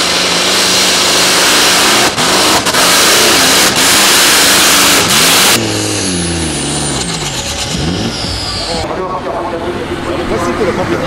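Competition pulling tractor of 2.5 tonnes powered by a 1950s radial aircraft engine of about 4000 horsepower, a loud roaring, revving engine that rises and shifts in pitch, with people talking over it.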